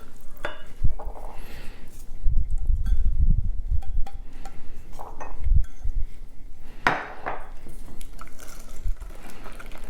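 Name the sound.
stirring orange juice into custard cake batter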